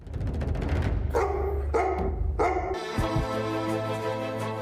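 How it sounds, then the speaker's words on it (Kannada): A dog barks in a domestic scene from a Kannada TV serial, a few sharp barks over a steady low hum, then a sustained tonal sound takes over. "ಇವಾಗ ಯಾಕೆ ಬೊಗಳ್ತಾ ಇದೆಯಾ?"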